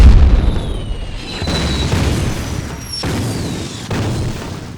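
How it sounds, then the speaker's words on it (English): A Krupp 12-centimeter breech-loading cannon fires heavy rounds, giving a series of deep, loud booms with rumbling tails, spaced about a second apart, with no talk over them. "they fired at them with heavy weapons, Krupp 12-centimeter breech-loading cannon"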